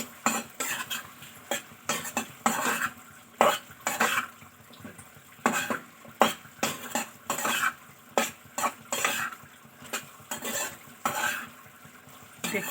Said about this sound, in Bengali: জল দিয়ে ভালো করে একটু নাড়াচাড়া করে নেব